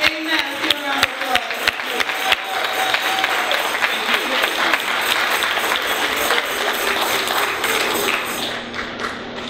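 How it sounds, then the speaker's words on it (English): A church audience gives a round of applause to welcome a guest speaker, dense clapping that is loud at first and continues steadily, then fades near the end. "Let's give a round of applause."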